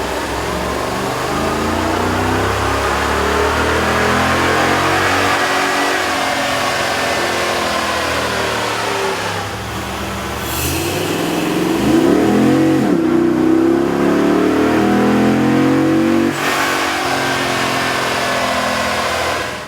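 Dodge Ram 5.7L V8 with an aftermarket air intake running on a dyno: a loud, sustained engine drone that climbs and falls through rising revs, then a second stronger surge, with no talking.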